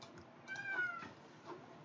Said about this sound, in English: The cat's like messing me up here.